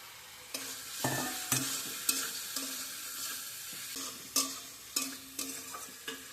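Potatoes sautéed in a pan with cumin powder and salt, with a continuous close sizzle and repeated spatula scrapes and knocks in an irregular stirring rhythm.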